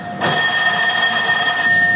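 A doorbell or call bell rings loudly and steadily at an environmental emergency and disaster response battalion base in Pampulha as vehicles stand ready, a sustained bright electric tone with no talk.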